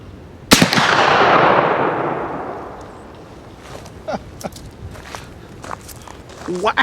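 A single sharp, loud shot from a Lyman Model 1878 Sharps rifle in .45-70, fired outdoors at a melon downrange. A long rumbling decay follows, then soft footsteps and small shuffling sounds.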